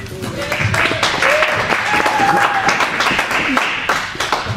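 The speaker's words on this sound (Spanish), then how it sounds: "Lo recibimos con un aplauso." Audience at a church pastoral talk claps to welcome the speaker: a steady patter of applause from a room of people, with a voice speaking over it.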